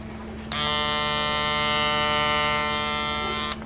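A Gamma+ Ergo hair clipper switches on and runs with a steady, loud electric buzz for about three seconds, then cuts off abruptly, with no talking.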